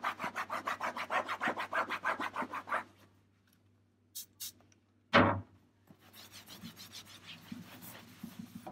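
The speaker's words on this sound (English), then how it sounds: "I'm going to give it a really thorough clean on both surfaces." Fabric and other seating surfaces are wiped thoroughly, with a rhythmic run of close rubbing strokes followed by a pause, a sharp knock and lighter scrubbing.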